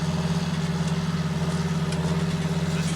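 A John Deere 8430 tractor engine in Farming Simulator 19, hitched to a cultivator, runs at a steady low idle-like drone with a constant even hum throughout, close and unbroken, with no talking.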